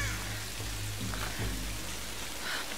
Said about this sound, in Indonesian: Hujan lebat disertai badai atau petir.